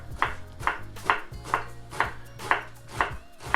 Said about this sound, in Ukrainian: Нарізаємо нашу цибульку. Я буду різати полукольцями.